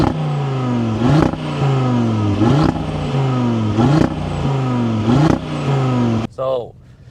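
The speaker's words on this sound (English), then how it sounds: "Let's fire it up here really quick in the performance mode, a little bit louder" A 2025 Audi RS3 facelift engine in performance mode revs hard in repeated rising bursts, each climb ending in a sharp drop, before dying away into a short whine at the end.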